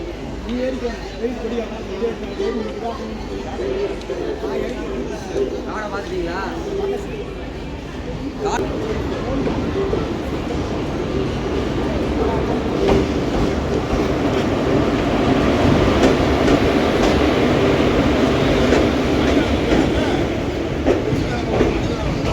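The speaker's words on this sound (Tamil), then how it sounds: "அமிர்தா வந்துட்டுருக்கு. அமிர்தா எக்ஸ்பிரஸ்." Amrita Express train pulling into the second platform at a busy Madurai station, a steady rumble and rattle of carriages swelling louder as it nears, with people talking throughout over the railway noise.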